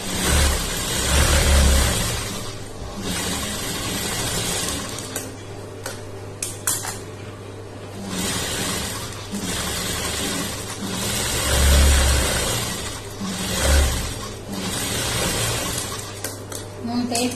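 A domestic sewing machine runs in short bursts while stitching a lining blouse, its low motor hum starting and stopping in a steady rhythm, close and fairly loud.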